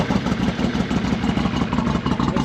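A Can-Am Renegade 850 ATV with its exhaust tip and baffle removed runs steadily nearby, a loud, deep, throbbing idle with rapid even pulses and no voices over it.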